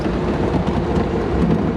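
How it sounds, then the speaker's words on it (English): Steady rain during a drive, a dense even hiss and low rumble with no break, loud and close and heard alone. "Even the ride in the rain is worth it."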